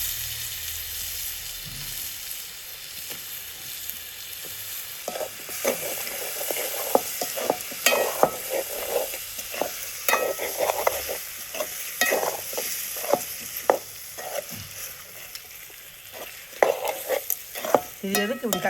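Brinjal fries in oil for a village-style coconut prawn curry, with a soft sizzle beneath frequent scraping stirs of a spoon against the pan that come in irregular bursts.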